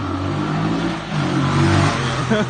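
A 1998 Suzuki DR350 dirt bike engine revs steadily and loudly up close, its pitch rising and falling across the stretch with no talk over it.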